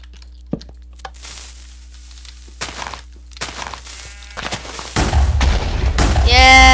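Blocky structure blown up with explosives in Minecraft 1.9: scattered clicks and small pops, then a loud rumbling explosion burst that swells and stays dense to the end, with voices talking around it.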